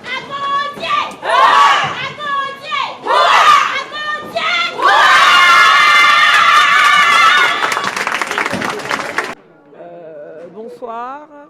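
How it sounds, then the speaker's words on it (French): Theatre crowd at the Magic Mirrors cheers performers of an Amazon-themed stage piece, loud rising whoops and shouted yells building into a long sustained roar, then cutting off to quieter voices. "Merci beaucoup, on les applaudit."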